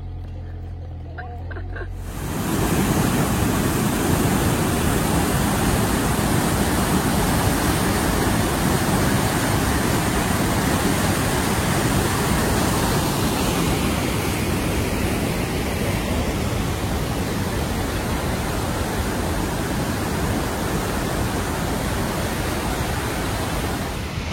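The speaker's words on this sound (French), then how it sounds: "On est arrivé au pied de la cascade, c'est magnifique. Vous l'entendez au bruit, il y a beaucoup d'eau qui coule." A waterfall heard from its base, loud and close, a dense, steady roar of heavy falling water that surges in after a brief quieter moment and holds for the rest of the clip with no voices.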